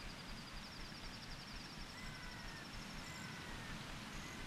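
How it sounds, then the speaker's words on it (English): Rushing water in The Legend of Zelda: Ocarina of Time, a dense, steady hiss like a pouring stream or downpour, even in loudness throughout with a few faint game chimes above it. "Oh, that's too much water!"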